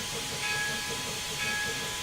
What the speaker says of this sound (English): lever that activates the blowdown of all things, which is actually awesome to me